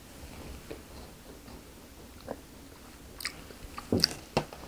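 Someone bites into and chews a salted milk cream bread from a convenience store, quiet close-up bites and soft crunchy chewing that grow more distinct toward the end over a faint background.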